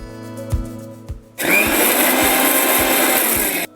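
A mixer grinder whirs loudly as it grinds grated coconut with a little water, starting abruptly after a few soft knocks and running steadily for about two seconds before cutting off.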